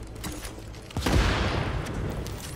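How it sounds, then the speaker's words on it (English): Explosive-round gunfire in the shooter game The Division: a sudden loud burst of shots and blasts erupts about a second in, then keeps rumbling and crackling densely to the end. "Ooh, explosive bullets."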